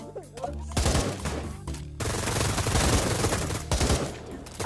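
Rapid automatic gunfire in a VR Call of Duty-style shooter played in Gorilla Tag: loud, dense bursts of shots, with brief pauses between volleys and a short voice at the start.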